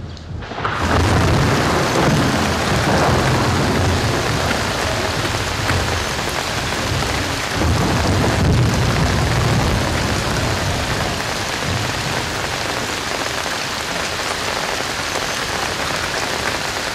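Heavy rain pours down in a loud, continuous hiss, with deep booming rumbles of thunder rolling beneath it.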